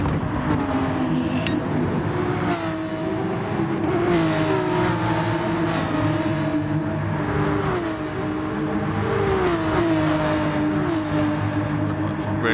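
Several sim racing cars, V8s among them, drone steadily close together with rising and falling engine pitch as they shift gears, loud and continuous under a commentator's voice.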